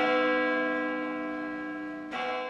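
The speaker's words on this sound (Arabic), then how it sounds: "دقت أجراس كاتدرائية القديس أنطونيوس للأقباط الكاثوليك استقبالا لميلاد المسيح" A single bell of St. Anthony's Coptic Catholic Cathedral rings for Christmas with a long, rich resonant tone that slowly decays, then is struck again near the end.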